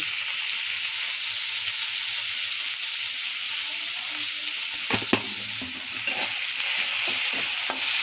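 Salted onions fry in a pan and are stirred, producing a strong, even sizzle close by with occasional spatula scrapes and taps against the pan; nobody speaks.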